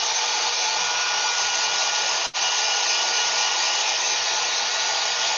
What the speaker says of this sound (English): This is the little hair dryer I use for the to blow the alcohol inks